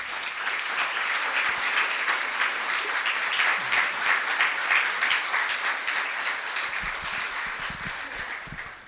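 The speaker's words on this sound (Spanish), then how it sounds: "Denle un aplauso al Señor, amor." A church congregation claps in praise, a dense, sustained round of applause from a large crowd, loud and even, tapering slightly near the end.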